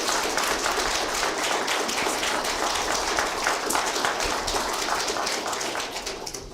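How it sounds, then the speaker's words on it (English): A school board meeting audience applauds: steady, dense clapping from a large crowd, moderately loud and continuous for several seconds before tapering slightly at the end. "so if you could applaud quickly so I can get the next name out"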